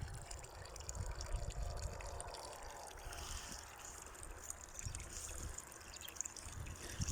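Mineral spring water trickles and splashes steadily at close range from the Kobolchyn spring, a soft continuous flow with faint broadband hiss and occasional low thumps.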